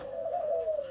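A spotted dove with a loud, ringing call gives one sustained, steady coo. It sounds close and clear against a quiet background.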